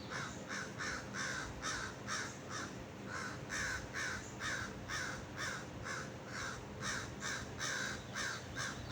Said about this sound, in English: Look, there's the 3 crows.